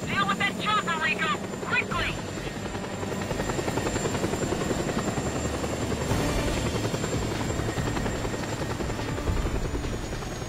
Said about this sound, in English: Deal with that chopper, Rico!